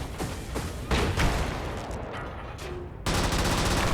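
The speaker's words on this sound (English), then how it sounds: "Orbital cannon. Let's blow this up." Orbital cannon strike in the video game Brigador, blowing up a target: a rapid series of heavy blasts and rumbling detonations, loud and close, with a sharp burst near the end.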